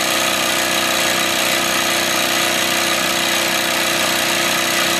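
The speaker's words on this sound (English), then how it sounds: "You can hear that the engine's not chuffed now." A Wilesco D24 model steam engine drives a Blue Thunder generator lighting incandescent bulbs, giving a loud, continuous mechanical whir and hum with a fine rapid ticking and no clear chuffing, steady for the whole stretch.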